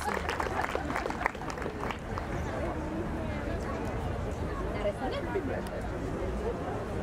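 Audience in a hall at a beauty pageant clapping steadily, a dense continuous patter of many hands at moderate volume, with some voices murmuring through it.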